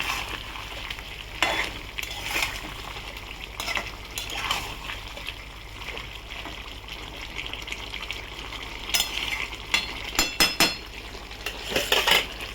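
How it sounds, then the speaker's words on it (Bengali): Salted chicken is stirred in a pan over low sizzling, with irregular scraping and clinking utensil strokes against the metal. The strokes cluster into quicker bursts toward the end, fairly quiet and close, with no talking. "নেড়ে দিলাম"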